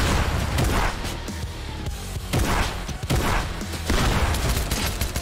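Rapid, dense gunfire in Fortnite, loud and close, sustained bursts of shots with thuds throughout, no talking.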